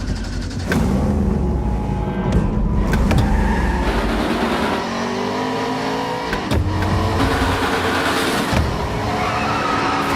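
Race cars on the Road America circuit in the iRacing video game during an eNASCAR event: loud, close engine roar with revving and gear shifts, tire skids and cars passing throughout, with no voices.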